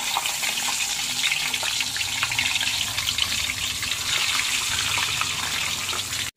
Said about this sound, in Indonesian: Nak goreng ikan kita.